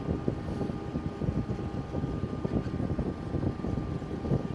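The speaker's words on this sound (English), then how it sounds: "I'm in four-wheel drive and I'm just kind of cruising down the driveway" A tractor carrying a snow bucket cruises down a gravel driveway in four-wheel drive. It gives a low, steady engine rumble with uneven crunching and rattling, fairly near and moderately loud, and no one speaks.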